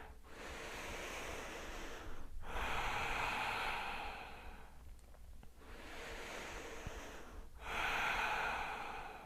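Deep breathing during yoga practice: slow, audible breaths close to the microphone, long airy inhales and exhales in a repeating rhythm, with brief pauses between them and no talking.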